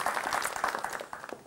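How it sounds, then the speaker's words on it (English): An audience at a children's cross-media event applauds, a dense burst of many hands clapping at once, fairly close and lively, fading slightly within a second and a half. "Let's give them a welcoming applause."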